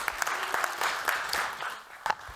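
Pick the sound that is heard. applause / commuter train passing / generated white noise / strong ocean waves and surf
applause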